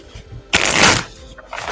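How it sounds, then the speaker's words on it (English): A deck of tarot cards is given a quick shuffle, one brisk papery riffle close to the microphone, followed by a softer flutter of cards. "I'm going to give this a good little shuffle for you, Glow."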